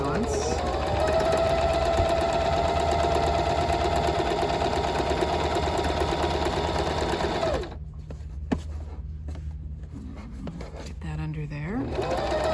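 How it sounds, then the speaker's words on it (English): A sewing machine runs steadily, stitching bag fabric with a half-inch seam, loud and continuous for several seconds before stopping, followed by brief handling noises and a quieter whir; a person talks over the machine. "we're going to sew this together"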